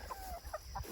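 Free-range chickens cluck in short bursts spread across a second, close by over a steady low background hum.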